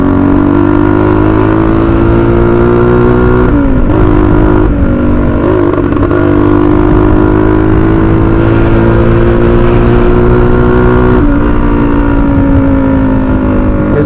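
Honda XLX 250R motorcycle engine held at high revs toward the rev limiter: a loud, continuous droning whine with small dips and surges in pitch, heard alone and close throughout.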